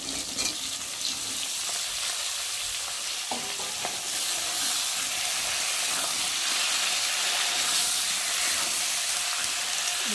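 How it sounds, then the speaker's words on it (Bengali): Pointed gourd, potato and brinjal sizzle together in a pan for a fish curry with ground cumin, a continuous close frying hiss with occasional stirring scrapes and no voices. "তো দেখো আমি এখন সবজিগুলো এর মধ্যে দিয়ে দেবো, তবে একসাথেই দিয়ে দিলাম, আলাদা করে আর ভাজলাম না।"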